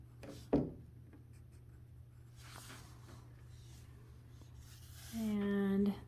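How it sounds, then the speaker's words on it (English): A pencil scratches across sheet music in short strokes while someone writes in note names, close and fairly quiet, with a brief louder tap near the start and a voice-like tone toward the end. "I'm going to write in note names."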